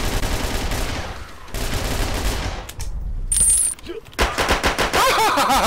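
Rapid automatic gunfire in Red Crucible: Firestorm, loud and close, in dense bursts with a short gap in the middle and a high whine in between, no talking.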